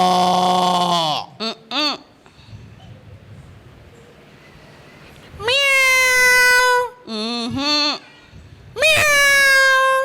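A voice imitates a cat meowing, giving a long drawn-out meow, a few short ones, a pause, then more loud, wavering meows close by.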